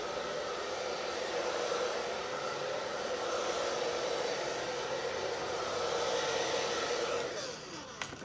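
Continuous close hair dryer blowing for several seconds, steady airy roar that cuts off near the end with a small click.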